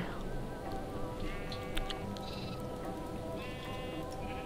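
Sheep in the video game Minecraft bleat several times in a row, clear and fairly close, over a steady background hiss with soft patter.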